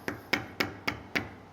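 A rubber mallet taps coffee roaster parts five times in an even, steady rhythm, each knock short and moderately loud with a quiet gap between.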